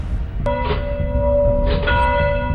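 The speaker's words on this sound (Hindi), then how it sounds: "पूरे 2 साल बाद चर्च की घंटियां एक बार फिर प्रार्थनाओं के लिए घनघना उठी।" A church bell at the Christian church of Batella near Mosul, Iraq, struck twice, each sharp strike followed by a long, clear humming ring that sustains over a low background rumble.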